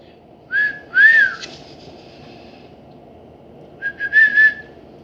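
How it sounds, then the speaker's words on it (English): A person whistles two short, bright phrases, the first a pair of quick rising notes and the second a longer wavering tone after a pause, sounding close and clear over a quiet background. "out came a real whistle."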